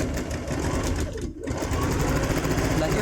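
A sewing machine stitches quilting fabric with a steady, fast mechanical whir and rapid needle chatter, running continuously up close apart from one brief dip in speed.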